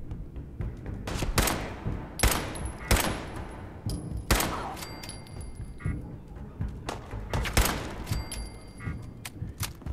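Gunfire in Fallout 4: a dense volley of loud, close shots, with several sharp cracks standing out over a steady clatter of combat noise and occasional faint high tones.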